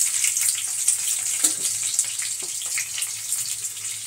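Onion pieces frying in hot oil in a pan for capsicum chicken fry, a soft continuous sizzle close by with a couple of light utensil taps and no talking.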